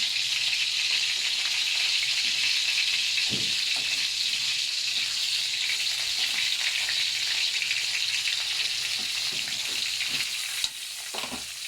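Food fries in a pan at home with a steady, bright crackling sizzle throughout, a few clinks and stirring scrapes popping out, and no voices.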